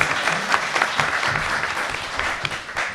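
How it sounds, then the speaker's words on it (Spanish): Audience in a live show in Vigo bursts into steady applause, a dense continuous patter of many hands clapping at close range for about three seconds with no talking over it. "Un aplauso para esta pregunta"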